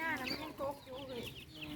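Chickens cluck on a rural Thai farm, several close, chattering calls rising and falling in quick bursts, with faint talk in the background.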